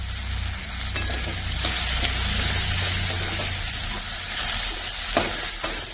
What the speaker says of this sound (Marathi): हळद तेलावर चांगली परतली